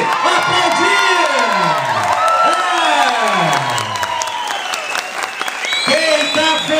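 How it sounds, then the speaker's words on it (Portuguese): Crowd at a housing complex inauguration breaking into loud applause and cheering, with whoops and children's shouts rising over continuous clapping close by. "Pode aplaudir."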